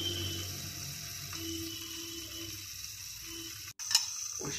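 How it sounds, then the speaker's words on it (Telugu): Okra frying inside a pressure cooker on a stove, with a faint, steady crackling sizzle that runs throughout and a brief sharp break near the end. "చూడండి, క్రాక్లింగ్ సౌండ్ స్టార్ట్ అయింది."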